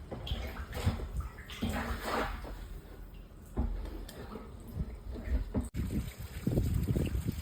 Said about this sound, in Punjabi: ਥੱਲੇ ਗੰਦਾ ਪਾਣੀ ਨਿਕਲ ਰਿਹਾ ਪੂਰੇ ਪ੍ਰੈਸ਼ਰ ਦੇ ਨਾਲ